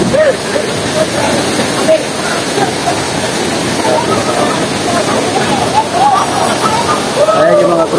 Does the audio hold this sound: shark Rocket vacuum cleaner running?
no